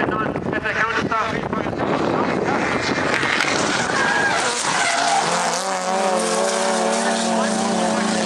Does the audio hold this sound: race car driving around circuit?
yes